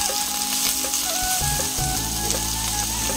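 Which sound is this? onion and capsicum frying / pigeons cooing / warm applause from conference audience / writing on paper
onion and capsicum frying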